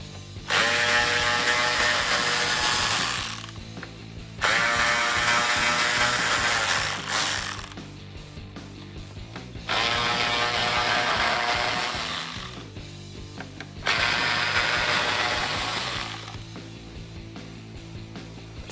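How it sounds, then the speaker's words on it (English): Ratchet driving a T30 Torx bit to remove Torx bolts on a 2021-2022 Ford Bronco third brake light: four separate bursts of rapid ratcheting clicks, each a few seconds long, with short quiet pauses between, close and clear. "We will use our T30 Torx bit in order to get them out."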